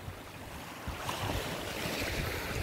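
Small sea waves wash gently onto a Sardinian shore, a soft, continuous broadband surf with a breezy, windy texture, steady and moderately quiet with no voices.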